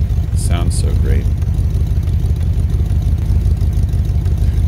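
A 1977 Jeep CJ5, freshly revived after sitting fourteen years and fed high-octane gas through a carburetor, idles with a steady, loud low rumble throughout, with brief voices or squeaks near the start.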